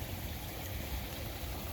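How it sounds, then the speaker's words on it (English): Backyard garden pond waterfall spilling down through three small ponds into a bigger one, heard close as a steady, continuous rushing and trickling of water with no voices. "This is the waterfall."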